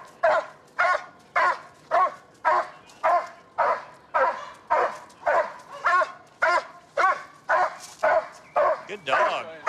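A police dog barks repeatedly in loud, rhythmic bursts about twice a second during a suspect arrest, with a few whimpering yips mixed in, close to the microphone and alone.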